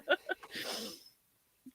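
A single sharp sneeze from a person with pollen allergies and a sinus infection, a quick burst followed by a breathy exhale, then near silence with a faint short sound at the end.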